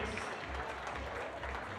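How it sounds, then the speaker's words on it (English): Applause from the audience at a European Youth Cup bouldering final in Graz, greeting a U17 female finalist; steady, dense clapping that stays fairly quiet and even throughout. "Lou Omier, big applause."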